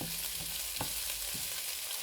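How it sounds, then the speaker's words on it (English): Onions and vegetables for chow mein fry steadily in a pan at home, a continuous close sizzle with a few soft stirring clinks and scrapes, no voices. "Everything looks frying really nicely."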